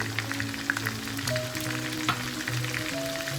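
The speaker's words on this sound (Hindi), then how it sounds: "थोड़ा सा फ्राई करेंगे, चूल्हा कम कर दूँगी।" Chicken with dry spices frying in a karahi, a moderate steady sizzle with occasional light clicks of stirring, close but not loud, over a faint low hum and without talk.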